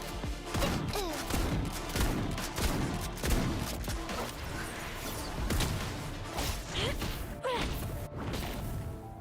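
Gunfire and combat blasts in the video game Silver Palace, a dense, continuous barrage of sharp cracks, bursts and whooshes layered under game music and effects throughout.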